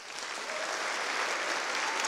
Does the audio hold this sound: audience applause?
yes